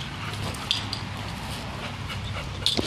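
Great Dane and golden retriever playing outdoors, with soft dog panting and a couple of brief yips over a steady background hiss.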